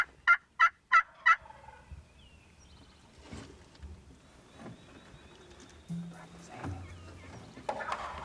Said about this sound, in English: Tearing it up, absolutely gobbling at every note, every single note